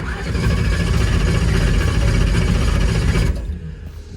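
A race car engine that has been sitting for two weeks with no fuel pressure cranks loudly and continuously with a rough, churning starter drone for about three seconds, then cuts off abruptly without catching.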